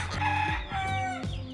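Roosters crow and answer each other in a short burst of loud, nearby, drawn-out calls, one overlapping the next.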